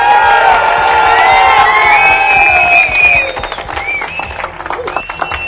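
A studio audience claps and cheers loudly for the star cast of the TV show Mahakumbh, with dense applause and whoops at first, then thinning to scattered claps and shouts.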